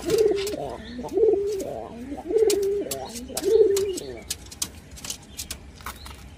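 Madrasi pigeons coo at close range, four repeated throaty coos at a steady rhythm, followed by light shuffling and tapping sounds.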